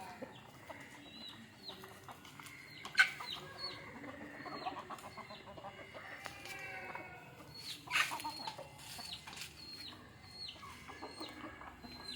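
Chickens in a backyard coop clucking softly at a distance, a scattered series of short calls with a couple of louder squawks against quiet background noise.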